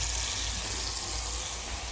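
Soapy water poured from a 5-gallon bucket to flush a clogged waterless urinal: a steady, broadband rushing gush running loud and continuous throughout, with no pauses.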